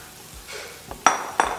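Bananas being cooked in a pan of melted sugar, with a few sharp clinks and scrapes of a utensil against the pan over a faint background, no talking.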